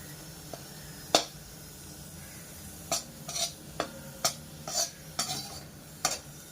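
Dink (edible gum) pieces fry and puff in a pan while being made into ladoo, heard as a low sizzle under a series of sharp metallic scrapes and clinks of stirring spaced across the stretch.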